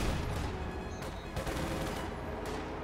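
Grenade explosions and gunfire in the game Company of Heroes 2 form a dense, muffled barrage of overlapping blasts and rattling shots that runs throughout.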